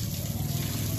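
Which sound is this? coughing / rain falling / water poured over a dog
water poured over a dog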